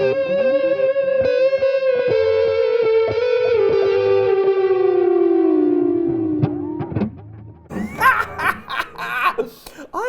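A purple electric guitar plays distorted sustained notes through a delay pedal, the long tone sliding down with echoing repeats, then breaking into choppy bursts with laughter and voices over the last few seconds.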